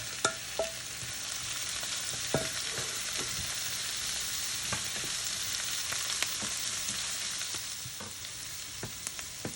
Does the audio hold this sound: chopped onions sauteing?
yes